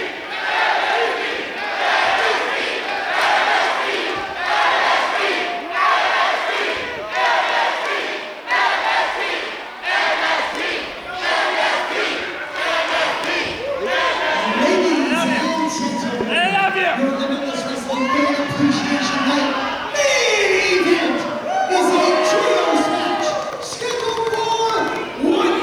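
A crowd at a Limitless Wrestling fan appreciation night cheers and chants loudly and steadily in rhythmic bursts, while an announcer speaks over it toward the end.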